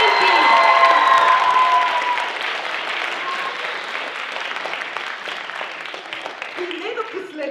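Theatre audience applauding at a Bulgarian stage show, a dense wash of clapping with some cheering that swells loud at first and then settles to a steadier level.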